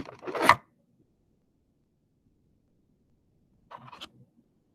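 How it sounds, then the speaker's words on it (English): An old wax-coated plastic Dixie cup is handled in two short, crinkly scraping bursts, the first louder and the second fainter, with near silence between them. "That sound was the plastic wax-coated old Dixie cup"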